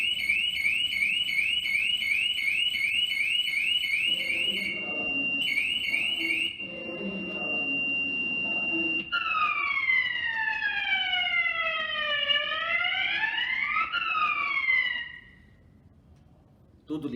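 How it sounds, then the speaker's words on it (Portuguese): A loud electronic fire alarm wails continuously, first pulsing in rapid repeated tones, then sweeping up and down in long rising and falling cycles before cutting off. "Sistema de alarme."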